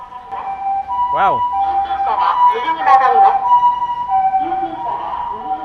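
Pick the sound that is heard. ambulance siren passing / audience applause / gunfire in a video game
ambulance siren passing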